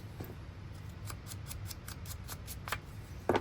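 Scissors trimming a paper recipe, a run of quick, small snips spaced across a few seconds, close and faint.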